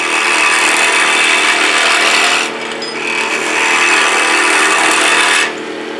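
A spindle gouge cuts wood spinning on a lathe while a flask vessel is shaped, a loud, continuous hiss and rasp that drops briefly in the middle and again near the end as the tool lifts.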